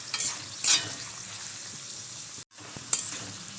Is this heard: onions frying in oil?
yes